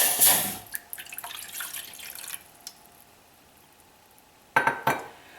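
A cup of water splashes briefly into a pan at the start, followed by quieter trickling and a pair of metallic clanks near the end.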